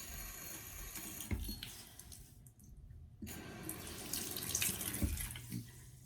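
A tap running to wet a makeup sponge, a steady close stream of water with brief splashy interruptions as the flow is caught and shifted, no talking.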